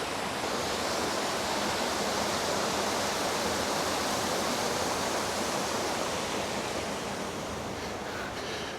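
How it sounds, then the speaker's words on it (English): A waterfall on a Lake District mountain trail on a winter day roars as a steady, full rushing wash, close and unbroken, with no voices. "There's some lovely waterfalls."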